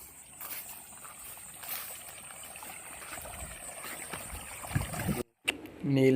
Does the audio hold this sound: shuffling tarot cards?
no